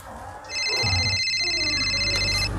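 A phone rings with a bright electronic trill that holds steady for about two seconds, close and fairly loud over a low background rumble.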